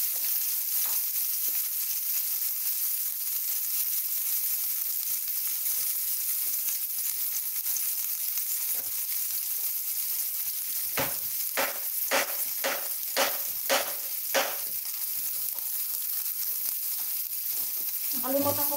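Frozen vegan sausage frying in a pan, heard as a steady loud hiss and sizzle. Near the end comes a run of rhythmic clicking or tapping strikes. No one speaks.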